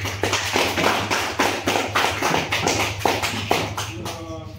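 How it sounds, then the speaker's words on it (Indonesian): An audience claps for the first presenting group at a classroom discussion session, a steady, fairly close ripple of applause that fades out at the end. "Kita berikan aplaus untuk kelompok 1."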